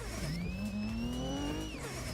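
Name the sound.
Volvo car engine accelerating in video game Assetto Corsa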